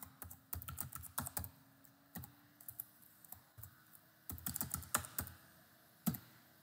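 Password typed on a computer keyboard, a quick run of crisp, close key clicks in uneven bursts with short pauses, quiet and alone.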